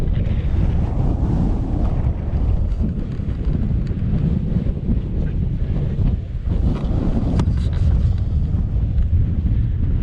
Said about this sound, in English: Yep, it is this windy.